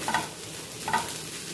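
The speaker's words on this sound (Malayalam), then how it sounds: "ഇതാ ഇതൊന്നിനി മിക്സ് ചെയ്തിട്ട് ഒന്നെടുത്താൽ മതി." Potato filling is stirred in a pan, with two scraping strokes of the spoon over a faint sizzle.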